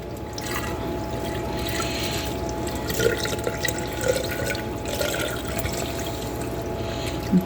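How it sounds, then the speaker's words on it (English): Simple syrup poured from a container over pineapple skins into a sterilized glass jar, a continuous trickling, dripping stream with a few small splashes, close and fairly loud. "I'm going to go ahead and pour it into my sterilized jar."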